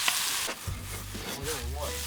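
Soup pasta with sausage sizzles and spits in a pot at a high-altitude campsite, a steady hissing crackle heard close up. A voice briefly murmurs partway through.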